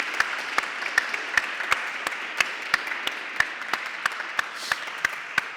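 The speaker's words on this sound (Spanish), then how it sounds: "Vamos a dar un aplauso a Josué porque..." An audience at a film lab session applauds the film and television composer Josué, with steady clapping carried by a clear evenly spaced rhythm of loud, sharp claps that repeats about three times per second.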